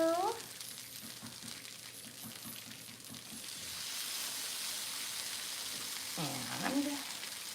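French toast rollups sizzle and fry in a hot pan, a steady close crackle that swells midway and carries under intermittent chatter.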